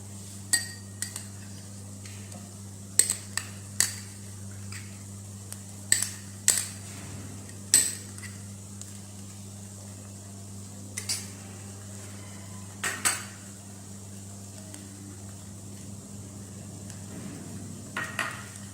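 A spoon scrapes and clinks against a bowl while chicken samosa filling is stirred with mayonnaise, with irregular sharp knocks over a steady low hum and no talk.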